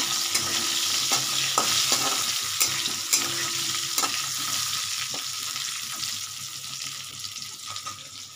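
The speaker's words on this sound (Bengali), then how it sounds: "এদিকে ওখানে আলুগুলো আমার ভাজা হচ্ছে" Potatoes fry in oil in a pan on a gas stove, giving a steady sizzle with a scattering of soft clinks and scrapes from stirring, close by and with no talking.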